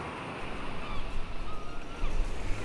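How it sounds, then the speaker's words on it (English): Ocean waves wash in a soft, steady surf at moderate distance, a continuous rushing hiss with gentle swells and no voices. "Now let's just sit back and relax and enjoy the waves."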